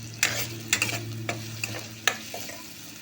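Onion tempering sizzles in hot oil in a pan for a Marathi suran (elephant foot yam) vegetable dish, with a steady soft fry broken by about five sharp scraping stirs of a spoon.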